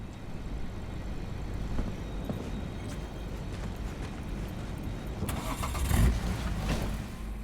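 Car engine starting in Cyberpunk 2077, a low continuous idle rumble that swells with a brief rev and clunk near the end, no talking.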